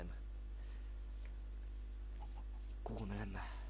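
A chicken in the Minecraft video game gives a short, clear cluck near the end, heard over a low steady background hum.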